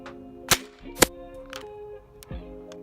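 Sharp pops from a Nerf Rival Knockout blaster firing foam rounds, with two loud shots close together early on, a softer one after, and another about two seconds in, alone with no talk.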